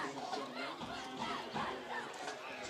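Crowd at a high school football game between Lorain and Sandusky, a steady distant roar of mingled voices and shouts, fairly quiet and continuous.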